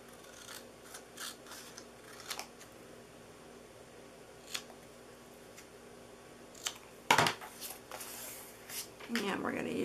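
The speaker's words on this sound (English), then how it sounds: "And I'm just going to hand cut that." Scissors hand-cutting a paper sentiment for a Christmas pull-out pop-up card, faint scattered snips with a couple of sharper cuts near the end, quiet and close under occasional talking.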